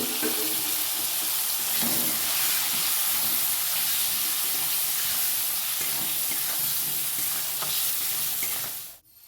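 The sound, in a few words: potatoes and peas frying in pan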